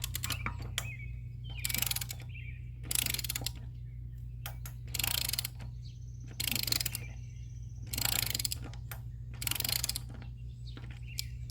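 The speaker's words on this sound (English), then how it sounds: "torque wrench on here." Torque wrench tightening the spare tire mount on a Cutwater 28 Venture trailer, giving a run of repeated ratcheting clicks in bursts of about a second, spaced evenly, with a steady low hum underneath.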